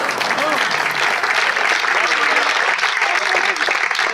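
A dense, steady round of audience applause fills a poetry gathering for about four seconds, fairly loud and continuous, with a faint voice barely audible underneath.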